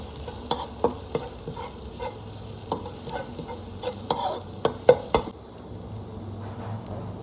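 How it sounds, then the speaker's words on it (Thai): Garlic and chili stir-fried in hot oil with vegetables, a soft steady sizzle broken by sharp clinks and scrapes of a utensil stirring the pan, with no talking. "ร้อนแล้วนะครับใส่กระเทียมลงไป เราก็คนมันมันหอมนะครับ เราก็ใส่พริกลงไปนะครับ"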